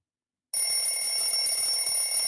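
An electronic ringing bell starts abruptly after a short silence and then holds as a loud, continuous, bright multi-tone ring with no break.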